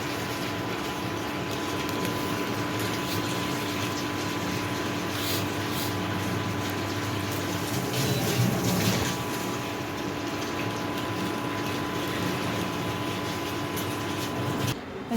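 Pot of chai with ginger, sugar and milk boiling on a stove, giving a steady close bubbling hiss that runs unbroken throughout with a faint tonal hum beneath and no talking.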